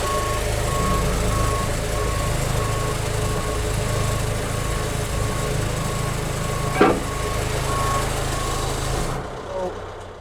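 An airport tug backs up with a tow bar hooked to an airplane, its evenly spaced reversing beeps repeating over a steady engine rumble, with one sharp knock midway and the engine dropping away near the end.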